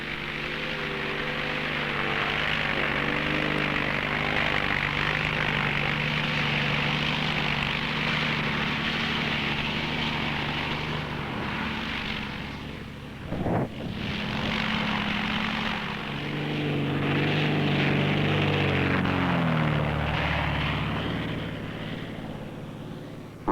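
A propeller airplane on a cloud-seeding flight drones steadily overhead, its engine hum holding a constant pitch with a brief dip and swell midway, loud and continuous throughout.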